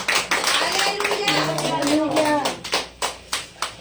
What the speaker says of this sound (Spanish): Dale una ofrenda de palmas a nuestro Dios